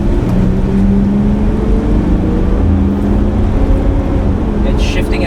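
Toyota Land Cruiser 100 with a 1HD-FTE turbo diesel accelerating hard, a loud, steady low engine drone heard from inside the cabin, rising slightly in pitch as it pulls without pause.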